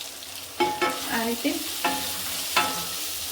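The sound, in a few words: Kashmiri chillies frying in pan for sambar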